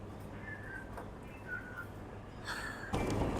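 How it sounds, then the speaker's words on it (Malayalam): A cat meows faintly three times, short drawn-out cries spaced apart over a steady low hum, with a brief rustle near the end. "പൂച്ച പാവം കേട്ടാ."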